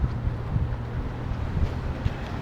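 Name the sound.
breezy wind outdoors on a sunny day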